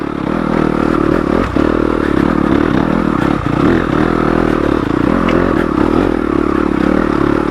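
A stock Yamaha YZ250FX dirt bike climbs loose, rocky ground in second gear at low RPM without the clutch, its engine a steady loud drone with clattering rocks and scraping throughout.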